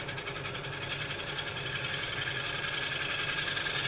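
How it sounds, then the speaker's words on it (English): Freshly sharpened gouge taking a light cut on a spinning wood lathe, a faint steady whirring hum with a fine rhythmic hiss of shaving, continuous and unbroken. "switch over to a freshly sharpened gouge. And just come round with a light cut just to tidy up"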